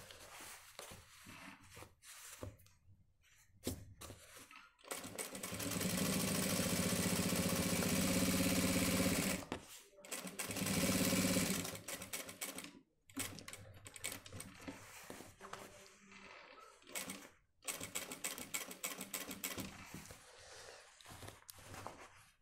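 Sewing machine running a straight stitch along the cuff and collar of a shirt, a steady loud whir in two bursts of several seconds, then shorter stop-start runs with gaps between them.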